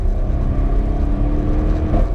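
A car fitted with an upgraded Akrapovic exhaust system drones loudly and steadily close by, a deep continuous engine and exhaust tone with no voices over it.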